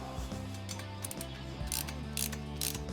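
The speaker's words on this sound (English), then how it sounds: "now we can go ahead and final tighten the four nuts" Ratcheting wrench tightening the four exhaust pipe nuts while fitting Lowbrow Customs Shotgun pipes on a Harley-Davidson Sportster: close, steady mechanical clicking with brief louder metallic bursts, no talking.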